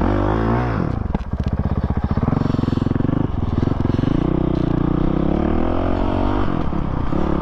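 A Honda CRF450RL dirt bike idles and putters along in slow first gear, its engine chugging in a steady loud rhythm with small throttle blips and surges, close and continuous throughout.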